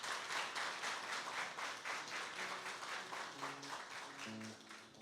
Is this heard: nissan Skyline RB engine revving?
no